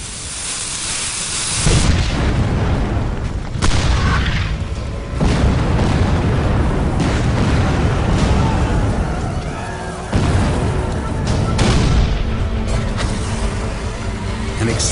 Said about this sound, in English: they're charging straight into more than 20 Union cannons just 400 yards away